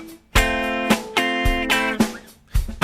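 Muted electric guitar strums in the rhythm of a rock riff, a few choppy percussive chord hits with short rests between, close and clear, no voices.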